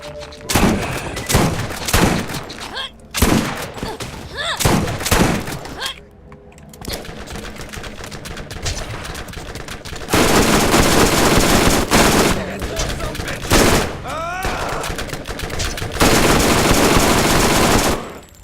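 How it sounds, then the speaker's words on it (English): Gunfire in the video game Borderlands (the first game), including shotgun blasts: loud, repeated sharp bursts and rapid volleys that come in clusters, with longer sustained stretches of fire. "See if a shotgun will stun it"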